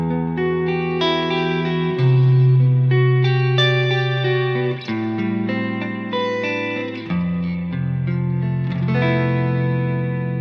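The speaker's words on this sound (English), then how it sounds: "I'm gonna remove the delay for now so that you can hear only the reverb" Clean electric guitar played through reverb alone, with no delay, chords and single notes ringing out with long washy tails, loud and close with no talk.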